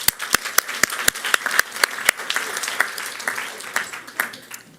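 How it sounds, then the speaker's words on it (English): An audience claps at a Baltimore City Public Schools ceremony, steady applause with sharp individual claps standing out, fairly close and moderate in volume. "Let's give them all a round of applause."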